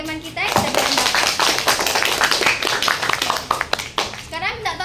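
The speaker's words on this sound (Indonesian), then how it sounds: "Kita beri tepuk tangan untuk ketiga teman kita yang sudah berpendapat." Students in a school chemistry lesson clap for three classmates. The applause is loud and close and runs for several seconds, with children's voices chattering underneath.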